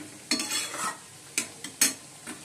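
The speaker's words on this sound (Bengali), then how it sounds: "চলো বন্ধুরা, চচ্চড়ি বসিয়ে দিয়েছি" Vegetable chorchori with cauliflower, beans, eggplant, radish, potato and spinach sizzles gently in a pan while a spoon stirs it, scraping and clinking in a few close, sharp strokes.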